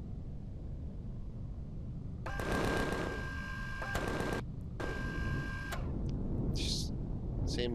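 Turret gunfire in the space survival game Empyrion: rapid, mechanical bursts of automatic fire in two main volleys, moderately loud against a low ambient rumble, followed by a few short scattered shots.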